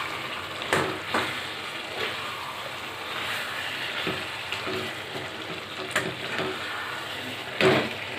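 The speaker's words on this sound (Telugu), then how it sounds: "మూత పెట్టకుండా వేయించుదాం." Chicken curry frying uncovered in a pan with oil and chili: a steady close sizzle with occasional scraping and clinking stirring strokes, no talking.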